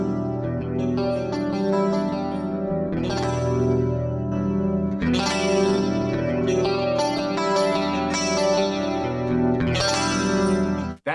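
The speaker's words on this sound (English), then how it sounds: "If I turn this off, I'm just gonna have a very flat, dull DI sound." An electric guitar runs direct through an HX Stomp with the EQ switched off. It strums sustained chords with a flat, dry tone, loud and steady with no talk.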